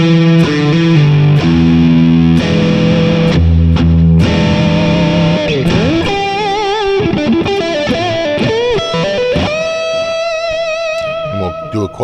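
A distorted electric guitar with both pickups selected plays chords, then bends and sliding single-note lines, loud and sustained with heavy effects.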